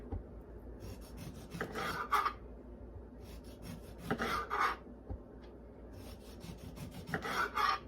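A knife or peeler shaves the outer skin off lemons in close, repeated rasping strokes, three short bursts separated by quieter pauses, with no voices.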